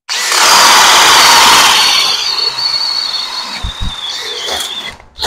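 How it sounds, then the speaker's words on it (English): A Makita cordless drill bores into wood with a Diablo inch-and-a-half spade bit, a loud continuous whirring grind for about two seconds that then eases into a lower, steadier drone with a few thumps near the end. "we're going to be using a Diablo inch and a half inch spade bit here and see how far we can get down in these"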